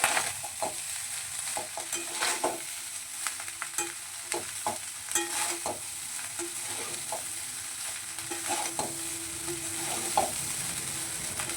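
Sugar, three green chillies and black pepper frying in a pan for homemade fried rice: a continuous close sizzle broken by frequent clicks and scrapes of a spatula stirring against the pan, with no voices.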